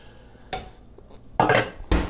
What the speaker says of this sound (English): And in here, pots and pans.